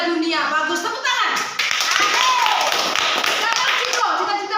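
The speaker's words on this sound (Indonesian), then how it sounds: "Bagus, tepuk tangan." Children clapping hands in a classroom, a busy scatter of quick claps mixed with young voices talking and a sung or chanted line over the top.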